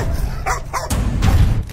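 Two pet dogs barking and yipping as they rush at house burglars, a few short sharp barks mixed with thumps over a brief, noisy stretch.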